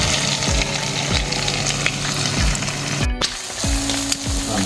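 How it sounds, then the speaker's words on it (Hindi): Dry fruits roasting in ghee in a pan give a steady, close sizzle with crackling, and a stirring scrape briefly cuts through partway. "अब मैंने एक पैन लिया है, उसमें मैंने घी ऐड किया है और उसमें मैं ड्राई फ्रूट्स ऐड कर दूँगी"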